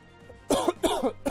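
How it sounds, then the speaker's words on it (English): A person coughs several times in quick succession, harsh broadband bursts close to the microphone with brief pauses between, after a short quiet lead-in. "I have this stupid cough"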